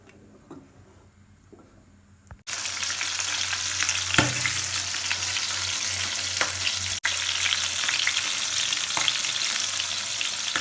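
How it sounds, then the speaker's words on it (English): After a quiet start, chicken sauce pours into a hot pot of jollof rice stew and sizzles loudly and steadily, with occasional spoon clinks and crackles. "I had to pour the chicken sauce into the stew"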